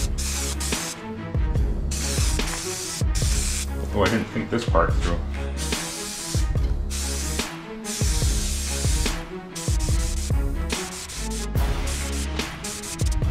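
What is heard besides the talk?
spraying spray glue for car headliner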